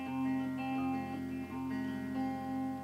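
Acoustic guitar fingerpicking pattern for a song, open bass strings alternating with fretted notes, ringing steadily and sustained, played alone and moderately loud.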